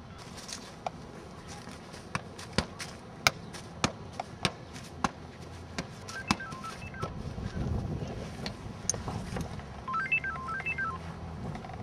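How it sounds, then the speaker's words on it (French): Telephone keypad tones beep one at a time in an uneven sequence of about a dozen presses, each short and distinct, followed by a faint ringing signal against quiet room noise. "faut vraiment que j'appelle mon beau Stéphane"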